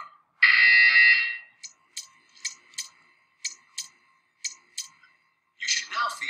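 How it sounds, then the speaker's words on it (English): A harsh electronic buzzer in the video game Portal 2 sounds once for about a second, followed by a series of sharp, evenly spaced clicks and another burst at the end. "You will hear a buzzer."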